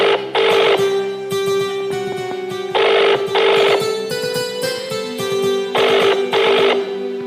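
A phone call ringing, loud close ringtone in regular repeating bursts with short pauses, nothing else over it.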